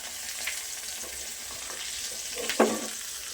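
Curry leaves and chilli slices sizzling in hot oil with asafoetida for a tadka tempering for masoor dal, giving a steady hissing fry with a brief sharper crackle near the end.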